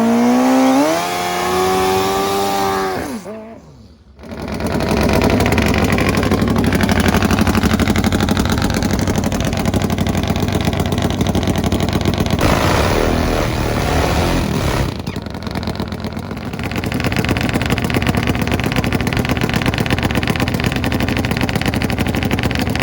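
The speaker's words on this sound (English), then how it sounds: "that sets the stage for a massive Harley versus Suzuki showdown" A Top Fuel Harley and a turbo nitrous Suzuki drag racing motorcycle launch and scream down the strip: a rising, high-revving engine howl, a brief gap at a shift, then sustained loud full-throttle roaring that dips momentarily and surges again.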